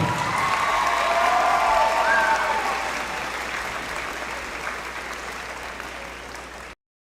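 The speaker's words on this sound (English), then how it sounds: "Let's give another big round of applause to all the young people here tonight." A stadium crowd at a rainy high school homecoming football game, the Hernando Tigers against the Center Hill Mustangs, applauds and cheers loudly. The clapping gradually fades before it cuts off abruptly near the end.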